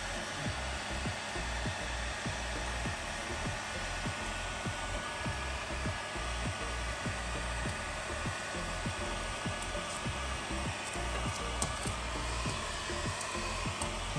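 A heat gun warms vinyl wrap on a Quintrex 630 Freestyler boat, blowing a steady, loud airy whoosh with a constant motor drone that runs unbroken throughout.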